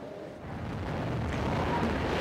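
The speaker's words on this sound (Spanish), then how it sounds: "el momento de la demolición con una explosión controlada de los restos del edificio de Miami" Controlled demolition blast bringing down the remains of a collapsed apartment building in Miami, a deep, sustained rumbling roar that swells slightly and holds steady with no voices.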